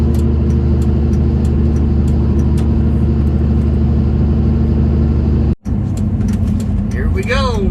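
A Cummins diesel truck engine with a custom intake idles and runs with a steady low rumble, briefly cutting out before resuming, while a voice speaks over it near the end.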